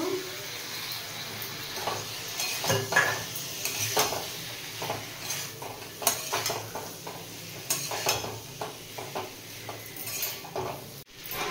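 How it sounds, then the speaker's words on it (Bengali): Cauliflower and potatoes being stir-fried in a pan for a Rui fish curry, with steady scraping and clinking of a utensil against metal over a soft sizzle, close and continuous. "ফুলকপিটা দিয়েও কষিয়ে নেব।"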